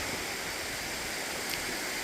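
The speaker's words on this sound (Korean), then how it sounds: "표충사 그 왼쪽 계곡 쪽으로 흘러내려가는 물" Winter waterfall water pouring down into a valley stream near Pyochungsa temple, a steady soft broadband rush of flowing water heard alone with no voices.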